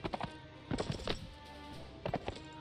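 Horse hooves clip-clop in Mount & Blade Warband, with a few quick bursts of hoofbeats near the start, a cluster around the middle and another near the end, fairly faint.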